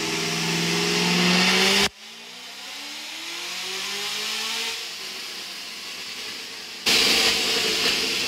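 A Chevrolet Camaro ZL1 engine with a cam and full bolt-ons roars at high revs on a dyno, cuts off abruptly, climbs steadily through its rev range, then bursts back to full, loud throttle.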